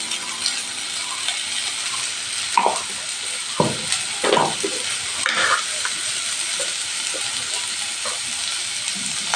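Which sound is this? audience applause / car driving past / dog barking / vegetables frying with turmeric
vegetables frying with turmeric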